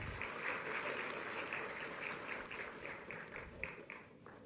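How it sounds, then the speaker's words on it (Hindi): Audience applause at an appointment-letter distribution ceremony for junior assistants and X-ray technicians, a steady moderate patter of clapping across the whole stretch that thins slightly toward the end, with no talk over it. "आप सभी की तालियों में ऊर्जा की थोड़ी कमी है"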